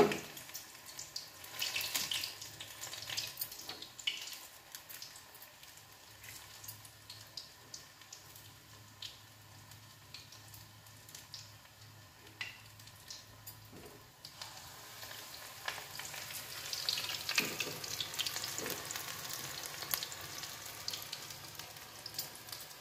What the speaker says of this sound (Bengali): বড়াটা একটু কড়া করে ভাজবেন